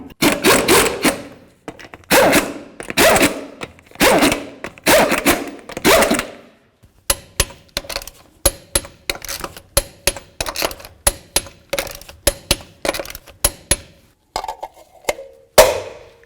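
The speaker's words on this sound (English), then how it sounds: "Start all of your lug nuts, snug them up, and torque them to 150 foot-pounds." Lug nuts on a front wheel of a 2007-2017 Ford Expedition being run on and tightened with a ratchet and torque wrench to 150 foot-pounds, heard as a series of short metallic clicks and ratcheting bursts, close and alone without talk.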